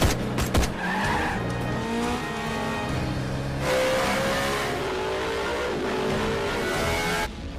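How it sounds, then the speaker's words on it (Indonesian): Car chase from a gangster action film, with loud tires skidding and squealing over revving engines, sustained and close throughout, with bursts of action sound effects and no talk. "Malik yang melihat hal itu langsung mengejarnya dengan mobil dan Jai yang mengikutinya dari belakang menggunakan motor."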